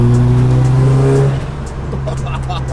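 A 500hp Mazda RX7 engine accelerates from inside the car, a loud droning engine note that climbs briefly and then drops away to a lower rumble with road noise.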